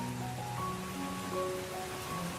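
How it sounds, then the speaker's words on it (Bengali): Steady rain pours down in an animated cartoon scene, a dense even hiss under faint musical tones, with no speech. "হঠাৎ করে বৃষ্টি শুরু হয়েছে"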